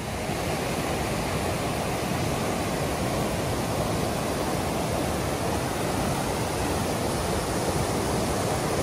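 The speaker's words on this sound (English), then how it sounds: "That is a pretty good-sized waterfall." A steady, loud rush of falling water, dense and unbroken, like a good-sized waterfall on the Pacific Crest Trail heard up close with no voices.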